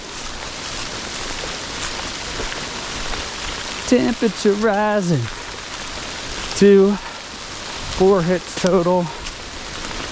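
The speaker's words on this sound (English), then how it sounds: "Oh, that's real rain right there." Rain falls steadily outside a truck camp, a constant hiss heard under occasional speech.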